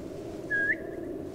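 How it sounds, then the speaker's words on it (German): A single short whistle rises from a bush in the Assassin's Creed Mirage video game, a clear, brief, bright tone over a steady low background. "Das war ein Pfeifen aus dem Busch"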